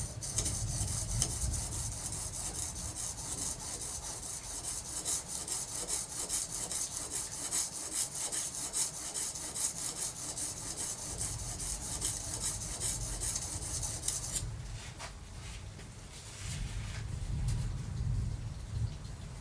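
A knife blade is drawn back and forth across a finer sharpening stone, giving a continuous close rasping scrape with steady rhythmic strokes that shift tone briefly near the end; no talking.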